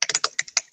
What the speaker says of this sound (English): typing like this